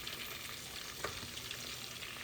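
Kebabs fry in a pan with a continuous dense sizzle that stays even throughout, quiet and without any talk.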